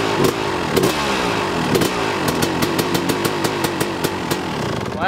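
A 250RM motocross motorcycle with a freshly rebuilt engine still being broken in, fitted with a Pro Circuit exhaust, revs sharply a few times, then settles into a loud, close, rapidly popping idle.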